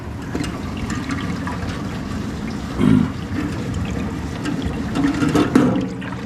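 Maple sap runs into a collection container at a sugaring setup during the first syrup batch of 2024, a steady close watery trickle and pour with a couple of brief louder gushes.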